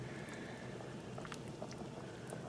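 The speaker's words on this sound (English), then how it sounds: "when you are frying fish, always be careful for the hot oil" Emperor fish fries in hot oil, a faint continuous sizzle with scattered small pops and crackles, heard alone at close range.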